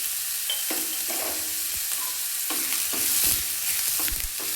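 Ingredients for a buttermilk sambar are fried in a pan, with a steady close sizzle and hiss punctuated by repeated scraping stirs of a spatula; no one speaks.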